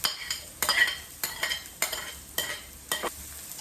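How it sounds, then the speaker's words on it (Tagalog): Onion and garlic sizzle gently in a pan while a utensil scrapes and stirs in regular strokes, about every half second, close and fairly quiet. "Talaga naman mabango yung sibuyas at bawang pag ginigisa mga idol"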